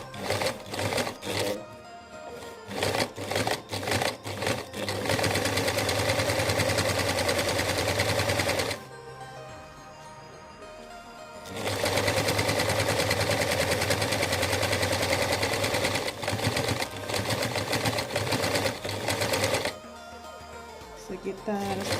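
A sewing machine stitches a waistband along the edge of stiff interfacing fabric, running in loud, fast mechanical bursts with a short quieter pause midway, close up and continuous.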